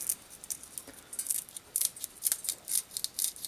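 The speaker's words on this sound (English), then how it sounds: "I'm going to cut them right up with the scissors" Scissors snip through small Thai dragon peppers with quick, crisp, repeated clicks in an uneven rhythm, close up and fairly loud, with no talking.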